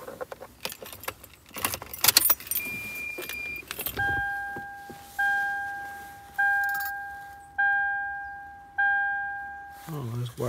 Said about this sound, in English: We need to put a key in this car.